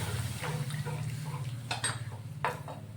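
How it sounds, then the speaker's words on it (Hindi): A cup of water poured into spices in a pan while making raw mango chutney, a soft splashing trickle with a couple of clinks of utensils against the cookware, close by and with no talk. "मैं 1 कप भर के इसमें पानी डाल रही हूँ"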